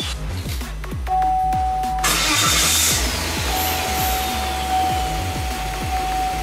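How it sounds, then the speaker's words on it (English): A car engine starts and then idles, its rapid rhythmic thrum steady and close, with a faint chime sounding alongside and no talk. "Now we're gonna start the vehicle and let this cycle around."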